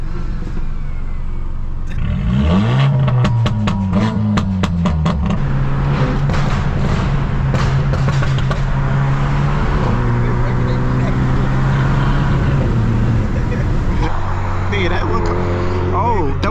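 A Stage 2+ BMW F30 accelerates hard with a rising engine note and strong pulls through the gears, heard from inside the car with passengers talking over it.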